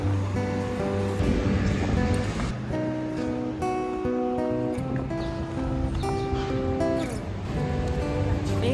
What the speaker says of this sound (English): The waves are actually huge.